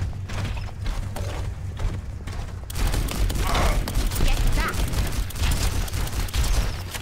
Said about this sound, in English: Moving the payload.